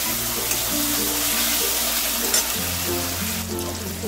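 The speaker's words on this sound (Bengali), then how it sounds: "1 চামচ আদা বাটা দিয়ে আদা রসুনটা একটুখানি ভেজে নেবো, কাঁচা গন্ধটা যাওয়া পর্যন্ত।" Ginger and garlic paste, with tomato, frying in a pan for spinach-coriander chicken, giving a steady close sizzle that runs unbroken throughout with a slight shift midway, no talking.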